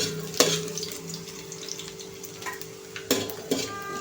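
Chopped garlic and ginger sauté in two spoons of oil in a pan for sweet corn soup, with a soft continuous sizzle and a few sharp clanks of a utensil against the pan.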